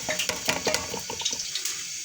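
Tap water splashes and patters steadily into a sink while fresh spinach is rinsed for onion-spinach pakoras, with irregular close clinks and splashes from the handling.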